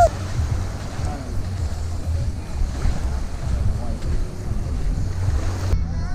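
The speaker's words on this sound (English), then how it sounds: "we just at the beach right now" Waves and surf at a beach on the Phi Phi Islands, a steady rushing wash of water with heavy wind buffeting the microphone throughout.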